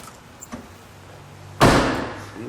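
A single heavy slam as a 1971 Dodge Challenger R/T is shut, sudden and close after a few seconds of quiet low hum, with a brief rattling decay.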